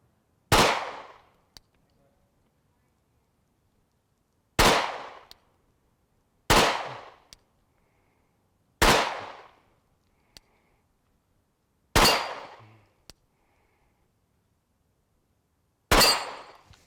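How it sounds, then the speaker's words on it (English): A Glock 43 pistol fired one-handed lets off six sharp, loud single shots at uneven intervals, each a hard crack with a short ringing tail, separated by silence. "let's do some single-hand shooting."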